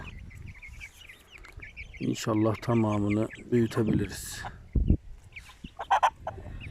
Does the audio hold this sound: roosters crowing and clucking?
yes